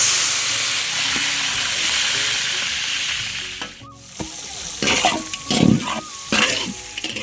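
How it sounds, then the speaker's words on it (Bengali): Rohu fish head fries in hot oil with a steady, close sizzle and hiss, followed by louder scraping and stirring clatter toward the end. "মাছটা আমরা গরম তেলে দিয়ে দিলাম।"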